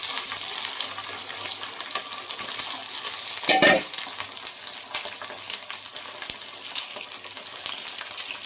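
Chicken sizzles in a pan with onions and chillies, a steady frying crackle with stirring and scraping, one louder clatter midway, no talking.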